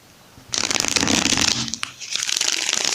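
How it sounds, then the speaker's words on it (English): A tarot card deck being shuffled up close, a dense riffling rustle that starts abruptly after a quiet moment and runs on loud with a brief dip near the end. "shuffle this deck 3 times"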